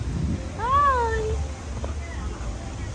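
A cat gives one clear, drawn-out meow close by, followed by a fainter short meow, over low background hum and household noise.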